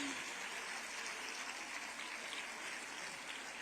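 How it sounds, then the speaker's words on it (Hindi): An audience stands and applauds at a ceremony flagging off special buses for the Lokmata Ahilyabai Matrushakti Yatra scheme. The clapping is dense, steady and continuous, a fairly distant wash of sound with no break. "अपने स्थान पर खड़े होकर जोरदार तालियों से आप अपने हृदय के उद्गार उन तक पहुंचाएं"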